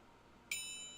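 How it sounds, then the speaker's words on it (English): A small bell marks the start of round one in a tabletop boxing card and dice game, struck once with a bright ding that rings on and slowly fades in a quiet room. "There's the bell for round number 1 as the gong goes rolling off the table"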